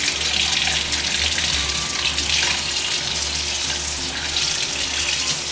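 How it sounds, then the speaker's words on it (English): Water runs steadily from a kitchen tap while it heats up for soaking chicken, a loud, unbroken hiss and splash filling the whole stretch with no voices. "you gotta let the water get as hot as it can get"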